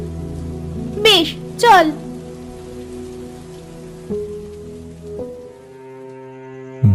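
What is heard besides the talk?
rain falling in a cartoon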